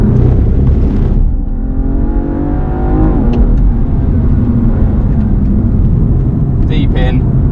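A BMW car accelerates hard along the Bedford Autodrome circuit, its engine note rising steadily and loud with strong rumble, then holding a sustained drone as it runs out down the straight, with a voice talking over it.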